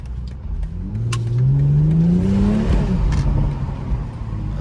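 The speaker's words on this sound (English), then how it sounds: "Hear low sounds of the car." BMW M440i engine revving at night in a downtown city, a loud rising rev that swells and peaks mid-clip before easing back, heard from inside the car with steady road noise.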